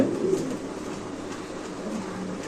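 King pigeons coo steadily through a short stretch, low soft calls repeating close by over a constant background hum, with no speech.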